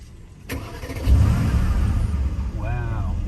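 An Acura NSX Type-S fires up from its push button: a sharp click, a brief crank, then the engine catches with a rising growl and settles into a steady idle while people talk nearby.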